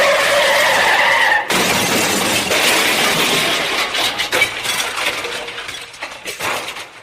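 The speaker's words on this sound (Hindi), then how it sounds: "कार अचानक से लहराई, जैसे ड्राइवर के बस से बाहर आ गई हो, और तभी एक जोरदार झटका खाकर कार सड़क के किनारे एक पेड़ से जा टकराई।" A car swerves out of control and skids along a roadside, then slams into a tree, a loud sustained rush of tire and body noise with crunching, shattering impacts that fade into scattered debris rattles.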